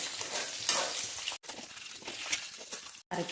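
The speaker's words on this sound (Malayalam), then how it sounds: "ഇനി നമുക്കതിലേക്ക് നടു കീറി വെച്ച മുളക് ഇട്ട് കൊടുക്കാം കേട്ടോ ഇനി ഇത് നന്നായിട്ടൊന്ന് നമുക്ക് വഴറ്റി കൊടുക്കാം" Slit green chillies sauté in a pan for a curd chilli curry, a steady close sizzle broken by stirring scrapes and two brief pauses.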